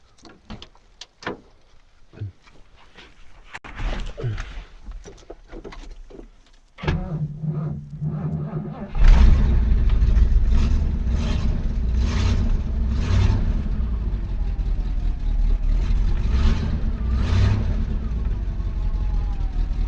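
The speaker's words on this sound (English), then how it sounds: "So here's going to be a cold start for you." Cold start of a 1973 Mercury Cougar XR7: some clicks and handling noises, then the engine cranks and catches, settling into a loud, steady idle close by with rhythmic surges, alone without talk.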